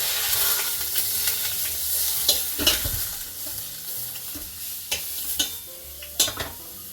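Beef roast searing in a Ninja Foodi XL, with a steady loud sizzle and hiss, occasional sharp clicks and scrapes from turning the meat, and no voices.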